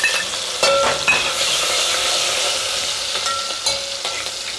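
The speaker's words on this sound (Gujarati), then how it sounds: "તેલ ગરમ થઈ ગયું મરચાં એડ કરી દઈશું" Green chilies dropped into hot oil for palak paneer, giving a loud, close, steady sizzle with a few clinks and stirring scrapes from a pan, no voices.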